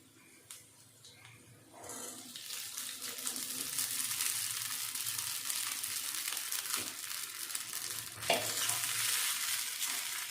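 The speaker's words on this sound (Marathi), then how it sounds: "आता मिरची तळून झालेली आहे यात मी घालते शाबू" Soaked sabudana is tipped into a pan of fried green chillies and sautéed. Quiet scraping gives way to a steady, moderate sizzle with stirring noises, and there is a sharper clatter near the end.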